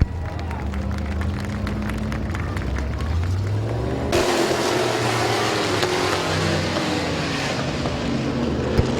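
Race cars roar around the oval at Midvale Speedway, a steady engine drone with a pass sweeping by mid-way, crowd noise and an announcer's voice mixed underneath.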